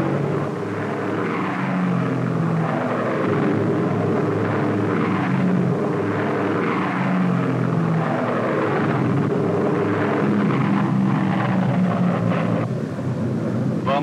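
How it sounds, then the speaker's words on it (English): P-51 Mustang fighter planes diving into aerial combat over Germany in 1944, a loud continuous propeller engine drone with shifting pitch and heavy rumbling, sustained without pause. "Mustangs dropped their wing tanks and plunged into the fight."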